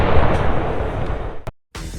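Tank gunfire sounds as a loud, close blast with a long rumbling roar that cuts off sharply, followed by another booming report after a brief silence.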